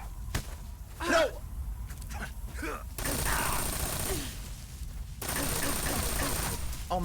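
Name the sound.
gunfire in the video game Metal Gear Solid 3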